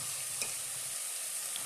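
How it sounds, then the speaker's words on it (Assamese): Goat mutton stir-fried in a pan, a steady bright sizzle with a faint scrape of stirring, close and continuous, no voices. "মাংসখিনি এনেকৈ অলপ টাইমৰ কাৰণে ভাজি থাকিম"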